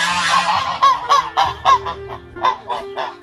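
Ducks honk loudly inside a house in a cartoon, with rapid nasal quacks repeating in quick bursts, close and clear with no talk.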